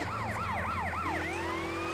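An ambulance siren in GTA San Andreas wails in fast rising-and-falling yelp cycles, then shifts into a steady tone, fairly close and clear with no talk over it.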